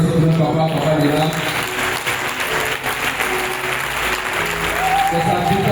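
A congregation at a charismatic prayer assembly applauds in a dense, sustained wash of clapping that fills the room. Vocal tones and cheers rise through it, and some voices are heard along with the applause.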